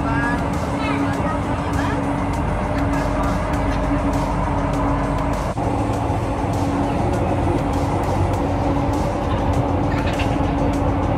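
An LRT Jabodebek light-rail train runs fast between stations in Jakarta. Its loud, continuous rumble fills the cabin with a steady tonal whine, and there is occasional murmur of passengers.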